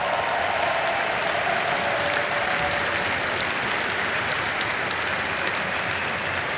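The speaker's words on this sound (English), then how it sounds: "But all of the competitors deserve a round of applause." A packed arena crowd at The International 2024 Dota 2 finals in Royal Arena applauds in a dense, continuous roar of clapping that holds steady and loud throughout.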